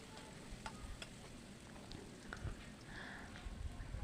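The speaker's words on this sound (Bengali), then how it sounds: "প্রথমে আমি তেল দিয়ে দিয়েছি দিয়ে দিয়েছি রসুন কুচি" Chopped garlic frying in hot oil in a home kitchen pan, a steady, fairly quiet sizzle with light stirring scrapes running throughout.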